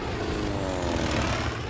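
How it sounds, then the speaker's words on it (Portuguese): Propeller-driven World War II torpedo planes and bombers in squadron flight, a steady, loud droning engine roar that fills the brief moment without any voices. "os americanos enviaram vários esquadrões de aviões torpedeiros e bombardeiros"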